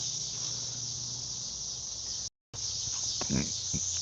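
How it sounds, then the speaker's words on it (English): A steady, dense cicada drone fills the whole stretch, a high continuous buzzing, broken by a brief dropout, with faint thumps near the end. "I don't know if y'all can hear the cicadas"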